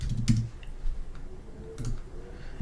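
A couple of quick computer keyboard key presses for a Control G shortcut, faint close clicks over a quiet background.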